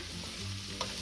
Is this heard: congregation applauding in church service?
no